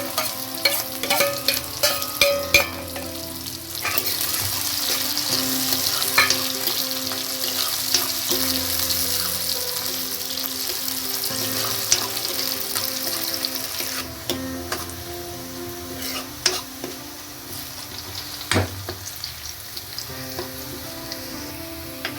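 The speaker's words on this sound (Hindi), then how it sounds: "2 बड़े चम्मच मैंने तेल डाला है और मैंने 2 मीडियम साइज के प्याज लिए, उनको लंबे स्लाइस में काट लिया। तेल में इसको फ्राई करेंगे।" Two medium onions, cut into long slices, fry in about two tablespoons of hot oil with a steady, close sizzle, broken by occasional stirring scrapes and clinks throughout.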